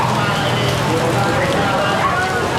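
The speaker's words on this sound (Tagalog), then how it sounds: "sobrang lakas ng ulan ngayon" Heavy monsoon rain from a habagat storm pouring at a pet market, a loud, dense, unbroken hiss of drops on surfaces, with a voice talking faintly underneath.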